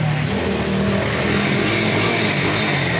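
A stock Honda NS150 motorcycle engine runs steadily and loudly, a continuous close-up mechanical drone with a low throbbing rumble and no voices.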